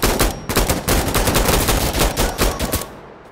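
Rapid bursts of automatic gunfire in the tactical shooter game Insurgency: Sandstorm, loud and close, sustained for about three seconds before cutting off.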